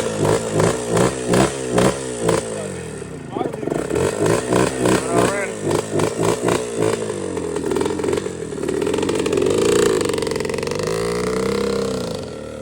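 A rebuilt two-stroke engine, freshly tuned at the power valve, sounds nearby at night with a choppy, pulsing series of blips early on, then settles into a rougher sustained run with swelling revs toward the end.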